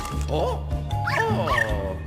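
A dog in a video game gives a few short, pitched yips and barks over a low background hum, close and clear, with a voice speaking alongside.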